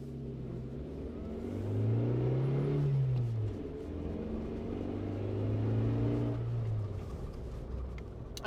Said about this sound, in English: let's go for a drive now